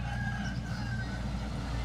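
Live chickens at a market in Laos, with faint clucking and crowing-like calls over a steady low rumble of market and engine noise, heard continuously through the short stretch.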